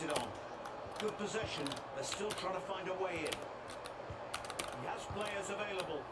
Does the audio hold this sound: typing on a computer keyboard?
yes